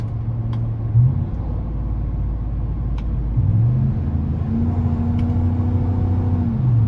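A 2015 GMC Sierra 1500 pickup with a 5.3 engine drives in low gear, its engine droning steadily from inside the cab, the pitch stepping and rising as it pulls.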